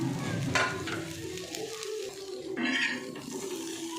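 Steady crackling sizzle of cauliflower frying in oil until crisp, with a couple of brief scraping stirs in a pan; no one talks.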